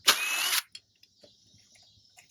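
A power tool drives a starter bolt on a Tao Tao Chinese quad ATV in one loud, close burst of about half a second, followed by faint clicks and ratchety taps as tools and parts are handled.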